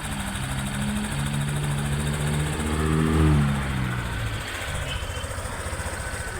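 A Honda Click 125 scooter engine idling while warming up, on a bike with a check-engine light and a lit temperature gauge; a steady, close, droning idle with a slight swell midway and no talking.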